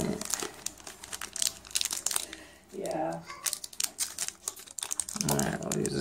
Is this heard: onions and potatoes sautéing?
no